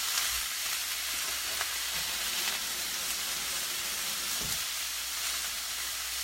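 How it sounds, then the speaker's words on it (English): Meat for street tacos sizzles steadily in a hot pan, a constant close crackling hiss with faint clatter now and then and no voices. "hopefully you can hear me over the meat sizzling."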